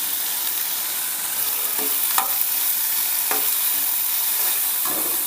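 Onions sautéing in oil in a pan, a steady bright sizzle with a few scattered pops and stirring scrapes, close and moderately loud, no voices.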